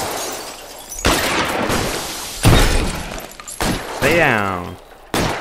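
Gunfight gunfire in the video game L.A. Noire: several loud, sharp shots break out in separate bursts across the moment, with a voice calling out between them.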